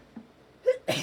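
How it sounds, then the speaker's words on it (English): A woman hosting a morning markdown livestream sneezes, a faint intake followed by two short, sharp bursts close to the microphone, the second louder than the first. "I'm going to sneeze."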